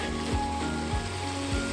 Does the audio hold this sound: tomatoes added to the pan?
yes